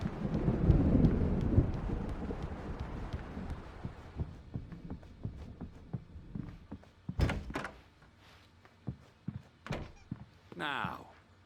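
Thunderstorm in the video game Alan Wake Remastered, with a heavy low rumble at first, then scattered thunder claps and thuds, while a voice speaks between them.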